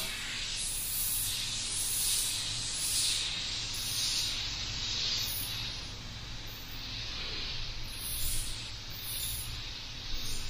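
A Creos PS270 airbrush with a 0.2 mm needle sprays paint in a steady, soft hiss up close, the airflow swelling and easing slightly as the trigger is worked, with no talking.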